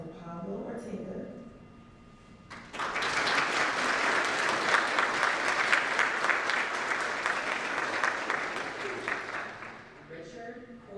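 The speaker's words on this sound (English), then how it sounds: "Please join me in giving a round of applause for Pablo Ortega." A college awards ceremony audience breaks into sustained applause for an award recipient, dense clapping that swells quickly, holds steady for several seconds and then fades back toward quiet, with some talk before and after.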